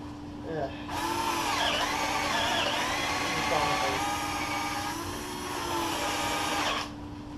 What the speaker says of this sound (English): Drilling holes, take 3.